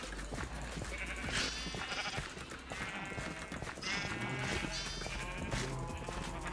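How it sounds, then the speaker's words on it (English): Sheep in a farming video game bleat repeatedly, including a brown sheep, with wavering cries overlapping over a busy background of game sounds and soft clip-clop noises. "This brown sheep out there is going crazy."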